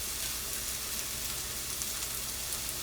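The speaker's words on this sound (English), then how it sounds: "My squash is still cooking." Spaghetti squash sizzles and fries steadily in a pan, a soft continuous crackle with no talk and no break in level.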